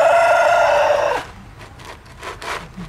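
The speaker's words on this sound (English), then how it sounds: "got the damn rooster started again. Everybody's crowing." A rooster crows once, loud and close, a long harmonic call lasting about a second, then fainter shuffling and sawing-like scraping follows.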